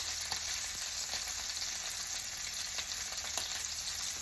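Pork chops frying in oil in a pan give a faint, even sizzle with soft crackles throughout, with no voices.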